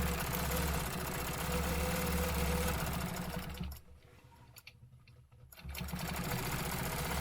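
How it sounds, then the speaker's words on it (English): A sewing machine stitches a line corner to corner on a stencil project, running in a steady fast mechanical whir, briefly stopping and pausing near the middle before starting up again at close range. "We're going to stitch from this top left corner down to the bottom right corner."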